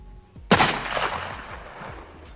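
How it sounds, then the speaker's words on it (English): A single gunshot from a soldier's gun: one loud, sharp crack that rolls out into a long, fading echo, with no other sounds around it. "he pulled the trigger of his gun"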